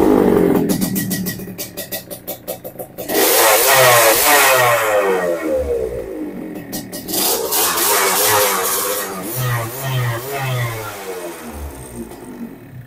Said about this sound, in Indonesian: Kita cek sound dulu.